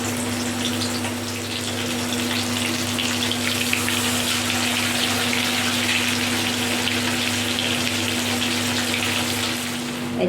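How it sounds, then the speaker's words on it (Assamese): Fish marinated with salt and turmeric sizzles in a hot kadai for a fish curry, a loud, steady, unbroken frying hiss with no talking. "ভাজি ল'ম, কেৰাহী গৰম হৈ গ'ল।"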